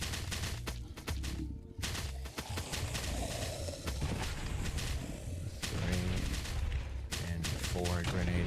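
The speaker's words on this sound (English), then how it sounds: "Four grenades. I think I've thrown 4 nades." Grenades exploding in the mobile survival game Last Day on Earth: Survival, a dense run of loud, booming blasts and crackling bursts that follow one another almost without pause across the whole stretch.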